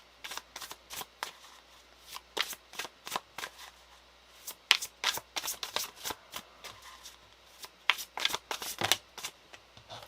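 A deck of tarot cards being shuffled by hand during a reading, heard as a rapid series of crisp, papery riffles and flicks in quick irregular bursts, close and fairly quiet, with no talking.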